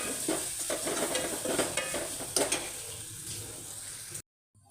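Masala and tomatoes frying in a pan over a low flame: a soft steady sizzle with stirring scrapes, no voices, ending abruptly in silence.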